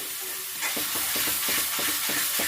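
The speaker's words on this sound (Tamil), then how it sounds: "இந்த சின்ன வெங்காயத்தை நம்ம அப்படியே இந்த எண்ணெயிலேயே நல்லா வதக்கிக்கிற போகிறோம்" Small onions, shallots, sauté in oil for a prawn thokku, a bright hissing sizzle with rhythmic stirring scrapes about every quarter second, close and loud.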